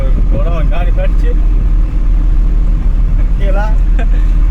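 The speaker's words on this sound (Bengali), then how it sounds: "গাড়ি কাটছে" Road vehicles give a loud, steady low engine rumble that runs throughout, while a person talks over it in bursts.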